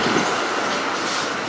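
Melbourne tram riding along the route toward St Kilda, a steady close rumble of wheels and rail noise with a broad hiss of wind at an open window, continuous and loud without pauses.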